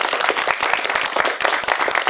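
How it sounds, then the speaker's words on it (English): Loud, close clapping and applause from an audience at a motivational life-transformation talk, sharp individual claps layered over a continuous wash for the whole stretch. "let's give a hand of applause to"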